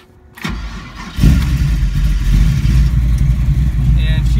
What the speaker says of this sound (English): let's go ahead and fire her up